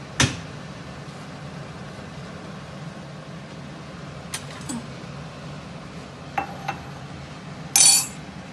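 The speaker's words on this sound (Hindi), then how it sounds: "अब मैं चाय डाल लूँ" Dishes clink a few times while tea is being prepared at home. The sharp, sparse clinks are spaced several seconds apart over a quiet, steady background hum, and the last one is the loudest.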